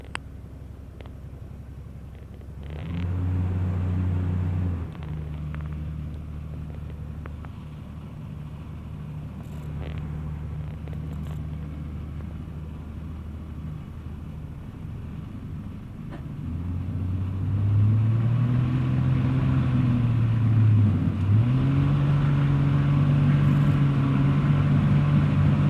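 A Sonex light aircraft's propeller engine drones steadily, then climbs in pitch and loudness as it revs up and accelerates on takeoff, with wind rumble underneath.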